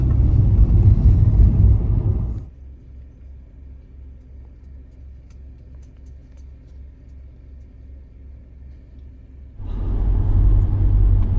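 A car drives along the waterfront in Saint John, New Brunswick, its engine and road rumble loud at first, dropping to a quieter steady hum for several seconds, then swelling loud again near the end.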